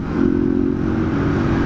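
A new Honda Titan motorcycle engine idles and revs steadily up close, with a constant mechanical hum and some faint clatter running through the whole moment.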